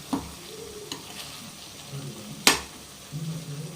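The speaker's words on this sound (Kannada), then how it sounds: "ಎಣ್ಣೆಯಲ್ಲಿ ಫ್ರೈ ಆಗಬೇಕು ಒಂಚೂರು." Ridge gourd pieces fry in oil with sesame seeds over low heat, a continuous sizzle broken by a few sharp utensil clacks and stirring sounds nearby, with no talking.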